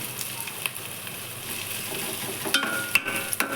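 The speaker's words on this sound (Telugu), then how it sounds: "ఇదిగో ఇలాగా ఫ్రై చేసుకోవాలి." Onions fry in a pan for an egg omelette curry, a steady close sizzle broken by a few sharp scrapes and clicks of stirring.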